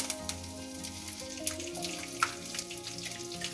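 Gooseberries and curry leaves sizzle steadily in hot oil with chana dal, peanuts, dried red chilies and cumin, a soft, continuous frying hiss broken by a few faint pops, heard alone without talk.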